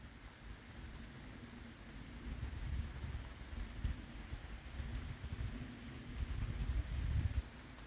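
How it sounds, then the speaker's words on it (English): Rain patters steadily on leaves along a dark, narrow wooded path on a cool fall day, a soft continuous hiss with low wind rumble beneath it. "You can hear the rain"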